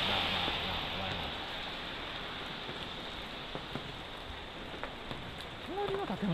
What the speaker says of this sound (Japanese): 隣の建物までも行けないからね、これ雨が強すぎて。